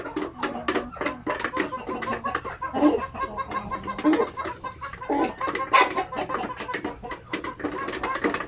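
Basilan hens cluck and call steadily on a farm, with several overlapping bursts of clucking coming from close by.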